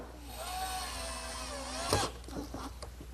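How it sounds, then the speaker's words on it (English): A woodworking bandsaw cuts and a drum sander smooths wooden armrest brackets, a steady whining hum with shifting pitch, then a sharp burst of cutting noise near the end. "cut them on the bandsaw, and then smooth out the edges with my drum sander"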